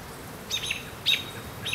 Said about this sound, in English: red-tailed hawk adult